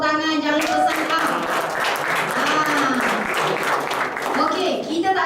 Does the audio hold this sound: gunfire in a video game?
no